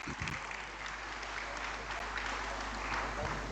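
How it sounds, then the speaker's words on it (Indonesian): Audience applause at an Indonesian official gathering, a steady wash of clapping heard at a moderate distance, with a low hum underneath. "Semua kita tepuk tangan untuk Ibu Sri Kandi."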